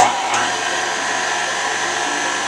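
A mixer running steadily, loud and close, as it mixes sugar, yeast and dry milk for bread, a constant whirring hum throughout with no talking.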